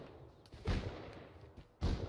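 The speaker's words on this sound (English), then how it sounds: "He just shot me from the sideways." Two gunshots in the console survival game Rust, each a sharp thump followed by a brief rumbling tail, spaced about a second apart and fairly faint.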